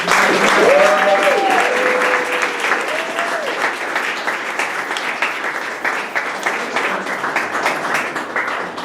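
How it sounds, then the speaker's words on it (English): A live audience at an evening talk gives a sustained round of applause for a guest. Dense, steady clapping fills the room for several seconds, and a voice is briefly heard near the start. "Could we give her a round of applause?"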